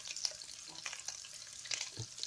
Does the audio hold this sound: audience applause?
no